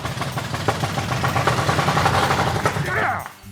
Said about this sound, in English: That is an engine that hasn't ran for 50 years, folks